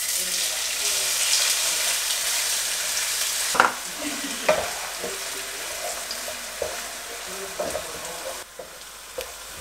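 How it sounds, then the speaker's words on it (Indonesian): Shallots sauté in a pan, a soft steady sizzle with a run of spoon scrapes and clacks against the pan, each stir close and fairly loud over the hiss. "Yang pertama banget adalah kita harus tumis bawang merah ya teman-teman, sampai dia agak harum."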